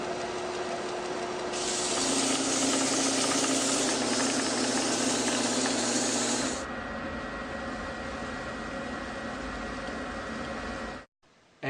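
A homemade woodworking dust collector runs with a steady broadband whoosh of blowing air and a motor hum, getting louder and hissier for a few seconds before easing back, then cutting off abruptly near the end.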